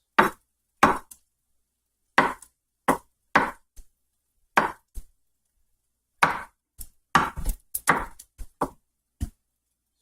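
A knife chops mushrooms on a chopping block in sharp, irregular strikes, single knocks and quick clusters of two or three, close and crisp with silent gaps between them and no talking.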